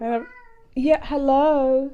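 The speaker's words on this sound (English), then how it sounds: "That's a cat." A pet cat meows near the mic, one short call then a longer drawn-out meow, while someone speaks a quick greeting.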